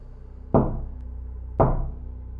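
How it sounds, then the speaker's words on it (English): Two slow, heavy knocks strike a drywall wall about a second apart, each a dull thud with a short ringing decay in an otherwise quiet room. "And at 3:18, the knocks came. 3 of them. Slow."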